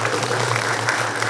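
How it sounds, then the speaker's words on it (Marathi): An audience at a public gathering claps loudly, a dense sustained wash of applause lasting about a second with no voices heard over it. "तुमच्या सर्वांच्यासाठी एकदा जरा जोरदार टाळ्या."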